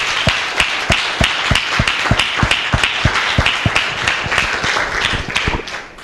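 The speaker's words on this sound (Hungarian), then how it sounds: "So give a round of applause" Audience at a DXN event applauding to welcome Dr. Ranjan as he comes up to speak, a steady wash of many hands clapping with sharp claps standing out, loud and continuous before fading slightly at the end.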